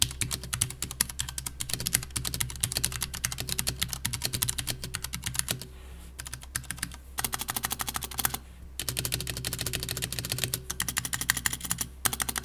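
Rapid typing on a Vortex Poker 3 RGB mechanical keyboard fitted with Cherry MX Brown switches, a close, dense stream of tactile key clacks broken by brief pauses.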